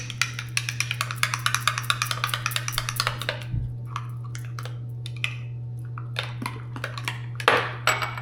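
Salted poke ingredients stirred in a bowl, giving rapid clinking and scraping utensil taps at first, then sparser wet knocks and clatters over a steady low hum.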